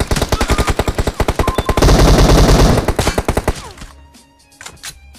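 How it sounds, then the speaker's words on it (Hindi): Loud automatic gunfire in the mobile battle royale game PUBG Mobile: rapid, rhythmic bursts of close shots, a dense sustained volley, then the firing tapers off into scattered quieter shots. "तभी इधर इस साइड से गन साउंड आता है"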